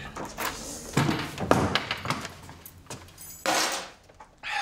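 A faulty door opens and closes indoors with a few knocks and clunks amid rustling, ending in a firmer thud, heard close and moderately loud.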